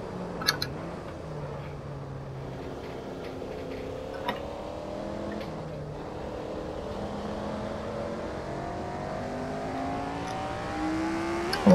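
A car engine in the Assetto Corsa racing game hums and rises in pitch through gear changes while driven cautiously, with faint ticking clicks, steady and moderately loud.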